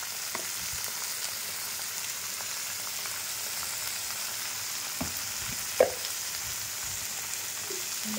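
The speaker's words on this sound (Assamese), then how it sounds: "এতিয়া মই বিলাহীখিনি গলি যোৱাকৈ ভাজিম।" Tomatoes with turmeric and salt fry in a pan for an Assamese meal, a soft steady sizzle with faint occasional stirring clinks, heard alone.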